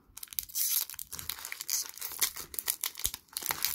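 Adhesive tape is torn off a Pokémon trading card booster pack, making close, crackly ripping and crinkling plastic noises in irregular bursts for a few seconds, with no talking.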